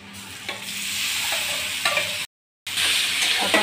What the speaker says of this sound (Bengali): এখন এটাকে ভালো করে কষাবো যতক্ষণ তেলটা ছেড়ে না আসে